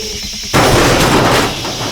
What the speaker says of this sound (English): A moving train slammed into a stationary one on the tracks, resulting in a spectacular crash.